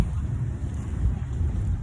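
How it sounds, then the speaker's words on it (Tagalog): Strong wind buffets the microphone in heavy low rumbling gusts, with a faint hint of water in the background. "Ang lakas na pala ng hangin dito sa banda."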